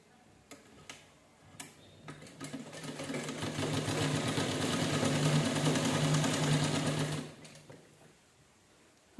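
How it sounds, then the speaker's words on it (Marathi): Sewing machine stitching a folded seam on a cloth bag: a fast, even mechanical clatter that builds for several seconds and then stops, with a few isolated ticks before and after, close and moderately quiet. "तशी दुसऱ्या साईडने शिलाई करून घेऊया"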